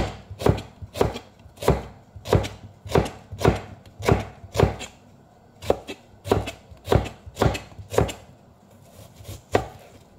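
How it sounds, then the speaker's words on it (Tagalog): Garlic being thinly sliced with a knife on a board, a steady series of about fifteen crisp close chops in even rhythm, no speech. "Lasan ko na ito. Manipis."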